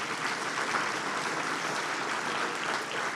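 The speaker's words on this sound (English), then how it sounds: "We can give a round of applause for that" Even, sustained clapping from an audience at an awards ceremony for a Heart Safe Workplace Award, a dense wash of hands with no breaks across the whole stretch.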